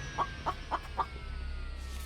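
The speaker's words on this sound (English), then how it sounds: "Hey, chicken." A chicken in a video game clucks four times in a quick, evenly spaced burst, close and moderately loud, over a low steady background hum.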